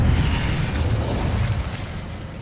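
Incendio fire spell in Hogwarts Legacy, a sustained roaring burst of flame with crackling, loud and close, slowly easing off with no voices.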